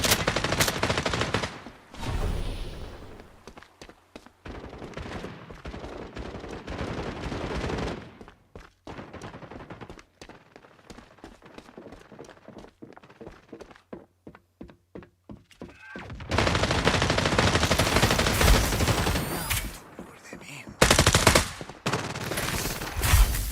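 Gunfire rattles through a match of the shooter game FragPunk: loud automatic bursts open and close the stretch, with rapid single shots and thuds clicking through the quieter middle.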